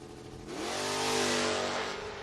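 A footbrake drag-race Mustang revs hard at the starting line. The engine climbs quickly into a loud, sustained roar that swells and holds, with no talking.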